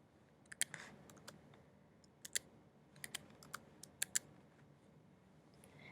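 Sparse, crisp clicks on a computer keyboard while entering in and out times in a payroll time sheet, spaced irregularly in short bursts over a quiet room.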